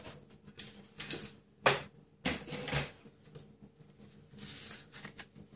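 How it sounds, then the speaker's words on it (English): Thick cardstock being scored for a card makes a series of dry, papery scraping and tapping sounds. They come in irregular bursts and are fairly quiet, with short gaps between them. "So I'm scoring at 4 1/8 because my card is 8 1/4."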